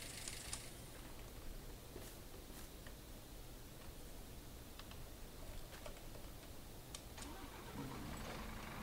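A tractor engine in the Farming Simulator 22 video game starts and settles into a steady low rumble, running continuously and fairly loud with a slight swell toward the end.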